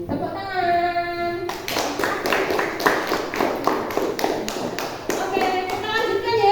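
A class of schoolchildren claps together in rhythmic bursts during a religious education lesson, the close, sharp claps following a brief spoken phrase at the start and tapering as voices return near the end.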